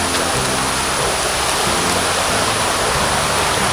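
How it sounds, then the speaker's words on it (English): Thommenkuthu waterfall roars with a loud, steady rush of falling water that fills the whole short stretch, with no voices heard. "I'm really glad we could come to this waterfall."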